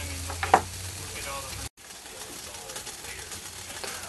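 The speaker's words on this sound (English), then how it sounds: "Full rolling boil at 8 minutes, 15 seconds of cook time on half an ounce of alcohol" Water in a titanium pot bubbles at a rolling boil over an Evernew Ti alcohol stove with a cross stand, a soft, steady hiss and burble that drops out briefly before resuming.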